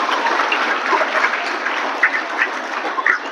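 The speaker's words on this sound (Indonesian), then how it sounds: "Tepuk tangan." Audience applause at a Nuzulul Quran religious gathering, a dense steady patter of many hands clapping close by for a few seconds, with no talking over it.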